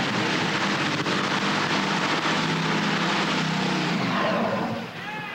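A 4,000 horsepower top fuel dragster warms up before the second round of eliminations at the 1989 NHRA Winternationals, a dense, thunderous, continuous engine roar that stays loud throughout and eases off slightly at the end.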